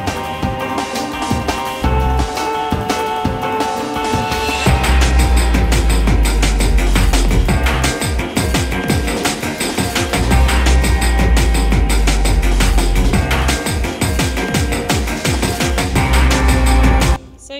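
Full-band arrangement of a track from the video game Transistor, with a steady heavy bass line, layered melodic instruments and dense chords playing continuously and loudly, cutting off at the end.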